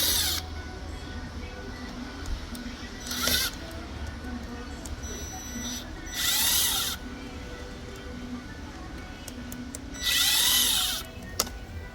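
A power drill whirs in four short bursts, each under a second, while screws come out of the dash of a 2013 Honda Civic Si, close and loud against a quiet interior hum.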